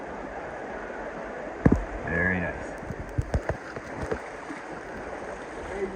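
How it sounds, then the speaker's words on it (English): A waterfall on the Narrows river hike sends out a steady, broad rush of water that fills the whole clip, with a brief exchange of voices over it. "And now we come to the waterfall."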